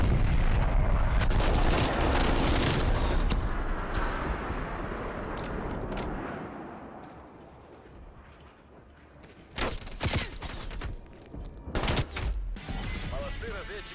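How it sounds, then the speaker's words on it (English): Incoming artillery fire in a video game sounds as dense, loud rumbling blasts that fade, followed by several sharp, separate impacts, with voice lines heard during the barrage. "Artillery inbound."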